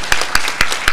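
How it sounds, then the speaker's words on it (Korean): Congregation at a prayer retreat service claps in unison, four sharp, evenly spaced claps in quick rhythm, loud and near. "우리 은혜 주신 하나님 앞에 다시 한번 감사 박수 올려드리겠습니다."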